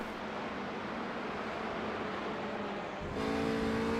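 A touring race car in a sim racing game hums steadily from the onboard view at Barber Motorsports Park, moderately loud, with a brief shift in engine tone near the end and no talk.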